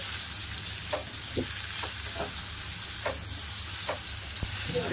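Prawns and pumpkin stir-fry in a hot pan for a shrimp curry, a continuous sizzling hiss broken by soft scraping stirs every second or so, close and steady with no talking.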